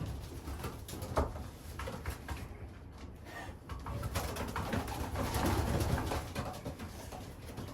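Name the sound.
young pigeons cooing in a loft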